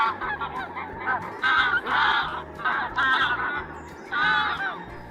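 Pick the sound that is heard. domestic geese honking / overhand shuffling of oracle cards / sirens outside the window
domestic geese honking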